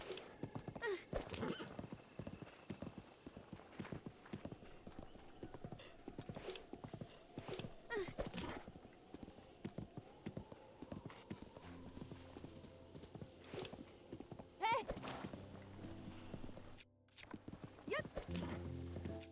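Horse hooves in a video game clip-clop in a steady walking rhythm, with a whinny partway through and faint background tones, a voice talking quietly over it.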